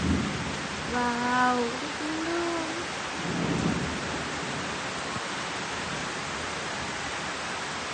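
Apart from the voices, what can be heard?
thunderstorm with heavy rain and wind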